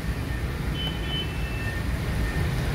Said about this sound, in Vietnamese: À, đang nổ máy.